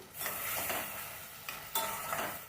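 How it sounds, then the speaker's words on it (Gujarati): Roasted tomatoes cook in a pan of Kathiyawadi-style tempering, a faint, soft sizzle broken by a few stirring scrapes and light utensil knocks, no talking. "હવે ટામેટાને આપણે 2 મિનિટ માટે ચડવા દેવાનું."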